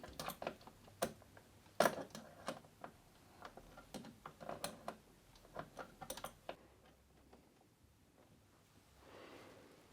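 Spanner clicking and ticking against cable fasteners on a Sinclair C5 control box, a run of sharp, close metallic ticks and small knocks in irregular rhythm that thin out toward the end.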